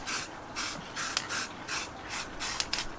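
Short repeated bursts of spray paint hiss onto a Honda VFR750 RC36 motorcycle wheel, about eight close hissing passes in an uneven rhythm with brief pauses between them.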